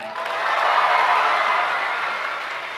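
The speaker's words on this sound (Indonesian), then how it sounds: "Semuanya tepuk tangan." An audience at a school award ceremony breaks into a short, dense round of applause that swells and then eases slightly, filling the hall with steady clapping.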